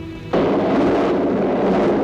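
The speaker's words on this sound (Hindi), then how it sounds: "बादल गरज रहा है।" A loud thunder rumble from a 1965 Hindi action film bursts in abruptly after a quiet moment and rolls on as a sustained, broad roar.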